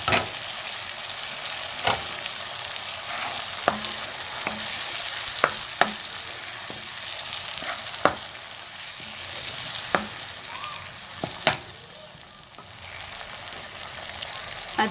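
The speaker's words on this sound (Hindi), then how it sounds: "अच्छी तरह से हम मसाले की भुनाई करेंगे। और अब हम साथ में टमाटर भी डाल देंगे।" Spices with ginger-garlic paste and tomatoes fry in a pan for aloo shimla mirch sabzi, a steady close sizzle broken by sharp clicks and scrapes of a spoon stirring, with no talk.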